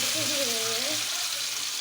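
Chicken 65 frying in hot oil gives a steady, close hiss of sizzling that runs unbroken throughout, with a brief tonal voice-like sound over it early on.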